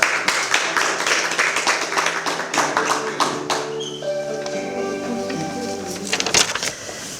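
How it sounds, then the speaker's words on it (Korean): Clapping from the audience at the Youth Justice Party launch ceremony, loud and dense for the first few seconds before thinning out as a sustained tone comes in. "박수 부탁드립니다"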